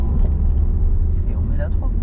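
Steady low rumble of a car engine speeding up during a driving lesson, with an instructor talking over it.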